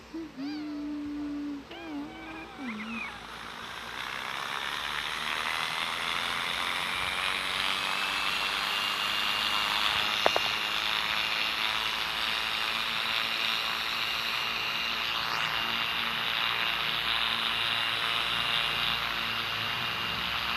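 A propeller airplane engine in a video game drones steadily throughout, a constant buzzing hum with a short voice near the beginning.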